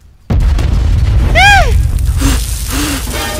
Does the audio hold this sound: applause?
no